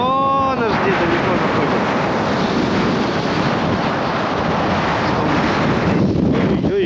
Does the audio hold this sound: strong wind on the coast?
yes